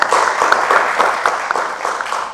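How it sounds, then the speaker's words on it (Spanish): Lecture audience at an architecture history series in Medellín applauds with steady, close, crisp clapping sustained throughout at fairly loud, even level. "Entonces, un aplauso al doctor Luis Fernando"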